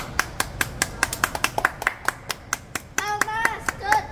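A small group claps hands in a steady, fairly sparse rhythm of sharp individual claps, close by, with a voice briefly sounding over the final second.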